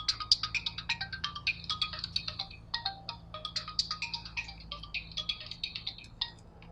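A telephone ringtone rings in a Pakistani Urdu drama scene, a quick run of bright, warbling electronic chirps in a fast, steady rhythm, with a faint low hum beneath and no voices.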